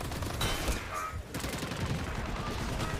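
Dense gunfire in a firefight inside a building in the video game Planetside 2, continuous rattling bursts forming a loud, busy wash of shots.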